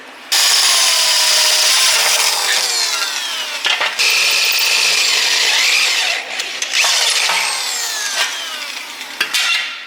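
A power drill whines loudly as a larger bit bores through metal on a motorcycle bobber build, with a few short pauses between bursts and a scraping, grinding edge.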